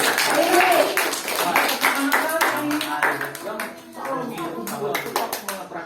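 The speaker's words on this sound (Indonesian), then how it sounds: "Ya, tepuk tangan dulu." Children at an Islamic boarding school clap their hands together in a quick, uneven burst of many claps that fills the whole stretch, with young voices chattering and calling beneath it.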